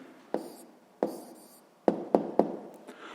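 A pen or chalk writes an answer during a sixth-grade math exercise, heard as a few sharp taps followed by short scratchy strokes in an irregular rhythm, close and fairly quiet, with no speech.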